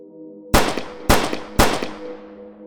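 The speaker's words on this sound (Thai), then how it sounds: "เสียงปืนที่ดังขึ้นอย่างกึกก้องกับปนาดในป่าดงพญาไฟในเวลานี้นั้น" Three sharp, loud gunshots about half a second apart, each echoing and decaying over a low steady hum.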